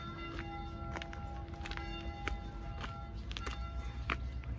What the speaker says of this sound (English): ding, ding, ding from the bells of the church.